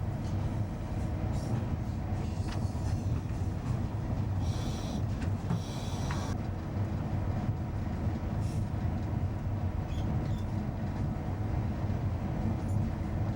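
A train running on its rails, a steady rumble of wheels and carriage noise heard from on board, with faint rattles and squeaks over the continuous roll.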